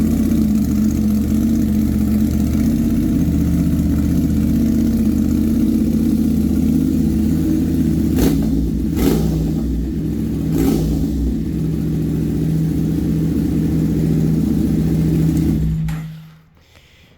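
Honda Transalp XL750 motorcycle with an aftermarket exhaust, cold-started and running loud and steady near the listener, a deep droning idle with a few sharp blips, then cutting off abruptly into silence.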